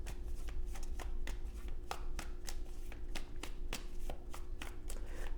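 Tarot cards shuffled by hand in a steady run of crisp, close riffling taps and slaps, repeating at a quick, even rhythm over a constant low background hum, with no talking.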